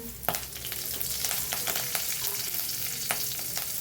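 Cumin seeds and curry leaves sizzling in hot ghee for makhana chivda, a close, steady crackling fry with small pops and light stirring scrapes.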